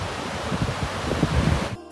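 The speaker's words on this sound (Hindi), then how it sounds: "ये देखो पानी बह रहा है" Mountain water flows along a Himalayan route toward Gangotri, heard as a brief, soft, continuous rushing wash with no voices.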